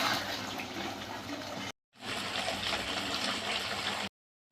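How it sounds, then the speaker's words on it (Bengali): Water pours into a pan of potatoes and spices frying with a little sugar, a loud rushing splash that runs, breaks off for a moment, then resumes before stopping abruptly. "কষানো হয়ে গেছে, এবার পরিমাণ মতো জল ঢেলে দেব।"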